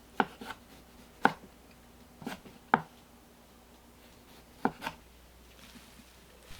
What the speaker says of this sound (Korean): 토마토를 썰어주세요.